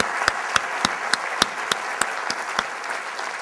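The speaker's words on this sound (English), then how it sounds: "I want to take this opportunity to get a round of applause for the volunteers who have helped put this thing together." An audience at a talk applauds volunteers in orange shirts, heard as a steady, evenly spaced run of sharp claps, fairly close and clear, with no voices over them.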